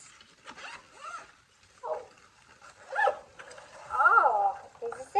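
A zipper on an expanding file binder pulled in several short strokes, the scratchy zipping bursts close and moderately loud, separated by brief pauses, the longest near the end.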